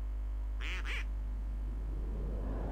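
Duck-shooting skill in the Seven Knights game sounds off with two quick, bright cartoon quacks in a row, loud over a steady low game hum.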